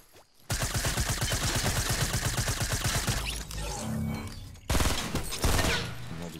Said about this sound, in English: Is that him shooting you?